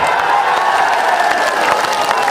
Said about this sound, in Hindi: ठोको ठोको ताली ठोको